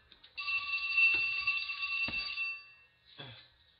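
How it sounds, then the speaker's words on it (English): A telephone rings in a quiet room, with two long electronic trill bursts followed by a shorter third, heard alone at moderate loudness. "Shut this phone down."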